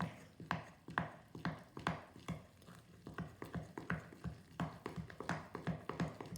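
White bread flour being stirred into a Greek sweetbread dough in a bowl, a continuous series of soft rhythmic taps and scrapes from the spoon, close and quiet with no voices.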